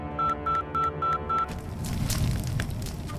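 A telephone number is dialed in a Telugu film scene: five evenly spaced keypad tones beep in quick succession, then give way to a louder, rumbling background.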